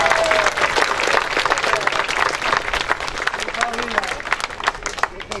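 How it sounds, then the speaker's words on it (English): An audience at a bridge grand opening claps in a sustained round of applause, dense and fairly close, with speech and crowd murmur running underneath. "let's give all of us a big round of applause"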